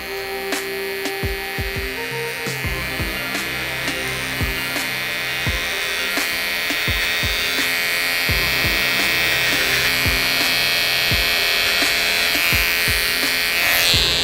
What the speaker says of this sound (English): Flip the clipper upside down, and we're gonna work this way.